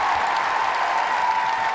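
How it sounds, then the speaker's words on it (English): Applause from a crowd at a live podcast taping, a continuous even wash of clapping at steady loudness for the whole stretch, with no speech over it. "Give me a round of applause real quick"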